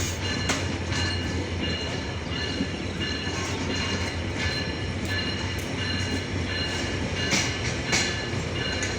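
The 727 Up Rupsha Express rolls through Domar railway station with a loud, steady rumble, rhythmic wheel clatter and occasional metallic squeals from the wheels.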